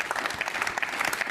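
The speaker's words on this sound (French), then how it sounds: "Applaudissements encore un petit peu" A crowd at the Vendée Globe sailing race prize ceremony claps in a dense, continuous burst, the applause filling the whole short moment with no pauses.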